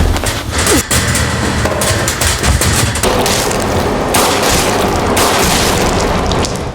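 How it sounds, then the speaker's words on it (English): Rapid gunfire in a dramatic film scene as a man is shot multiple times, loud dense bursts of shots and booms running continuously through the whole stretch with no talk. "Hibiki was shot multiple times and collapsed to the ground"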